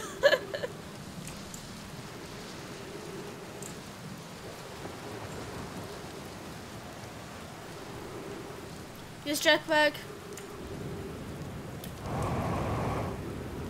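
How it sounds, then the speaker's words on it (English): Rain falling in the video game Outer Wilds, a steady soft hiss lasting throughout, with a brief spoken voice and a couple of short louder bursts over it. "Oh, that's rain."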